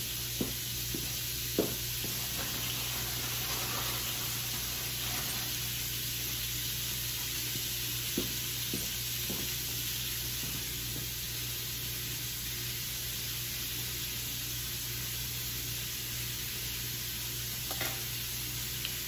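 Mini black garlic pretzel burgers sear in a hot pan, a steady, close sizzle and hiss running the whole time, broken by a few faint clicks and scrapes.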